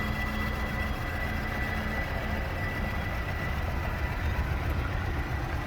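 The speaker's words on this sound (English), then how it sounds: "here's the motor. And you can see that it's wiggling around. It does have a misfire on cylinder 2." A 2011 Chevy Equinox engine with a cylinder 2 misfire idles with a steady low rumble and faint tonal hum, heard up close.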